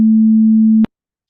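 A steady pure sine tone at 220 hertz, the low A note, holds loud and unchanging for under a second, then cuts off abruptly into silence.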